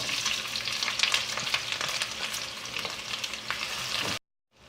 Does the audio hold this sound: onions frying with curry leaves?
yes